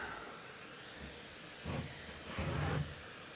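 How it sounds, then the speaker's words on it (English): Wallpaper steamer releasing steam while stripping wallpaper, heard as a steady soft hiss that swells in two louder bursts near the end. "this machine, apparently, if you fill it up, it gives you about 2 hours of steam"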